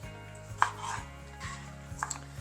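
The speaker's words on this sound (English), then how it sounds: "Then we want to cut these into 1-inch pieces and toss them in the marinade as well" A knife chopping shish kabob vegetables into one-inch pieces on a cutting board, about five crisp, evenly spaced thuds heard close up, with faint clinks of dishes between them and no talking.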